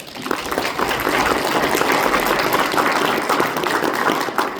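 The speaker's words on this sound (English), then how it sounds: "please give a round of applause to our mayor" Sustained applause from a large crowd at a town hall, dense steady clapping at a loud level throughout, no speech over it.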